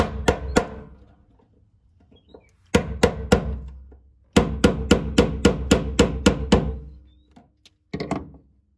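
Sharp hammer blows on a screwdriver ring out in bursts during a Lincoln Continental fuel pump replacement: a couple of strikes, a pause, then a quick run of about a dozen evenly spaced hits, and one more.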